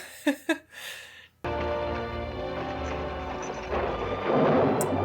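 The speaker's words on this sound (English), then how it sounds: "There's a storm coming." Thunder from an approaching storm in the 1953 western film Shane rolls in as a loud, sustained rumble that swells toward the end. A few brief voices come just before it.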